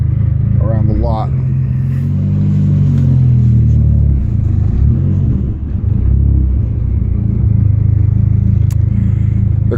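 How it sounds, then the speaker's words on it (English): A Dodge SRT-4 with a firmer-than-stock clutch rolls around a parking lot, its engine giving a loud, steady low rumble heard from inside the car, with a few revs early on. "But let's just take a quick drive around the lot."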